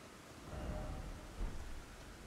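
Steady rain hissing in the Elden Ring DLC game world, with a low rumble of thunder rolling underneath, fairly quiet and continuous with no voices.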